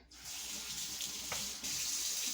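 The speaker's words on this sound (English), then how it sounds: "I'm going to rinse my hands again" Hands rinse under a running kitchen tap while a whole chicken is prepared for the crockpot, a steady close water rush that briefly dips and then returns at full flow, no talking.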